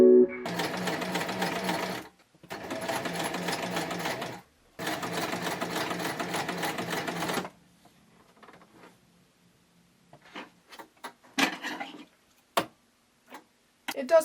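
A new sewing machine stitches pinned fabric edges in three loud, fast mechanical bursts separated by short pauses, then falls quiet apart from scattered faint clicks.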